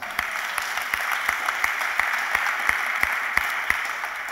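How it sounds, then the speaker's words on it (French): An audience at a church Bible study applauds the panel with steady, continuous clapping, individual claps popping out now and then, lasting the whole stretch with no voices. "Applaudissez maintenant pour le panel."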